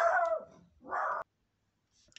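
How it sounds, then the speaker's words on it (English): A pet dog barks and yelps excitedly indoors right after being let out, two loud bursts of barking close by with a short pause between, then near silence. "My daughter just let the dog out. And it went a bit mad."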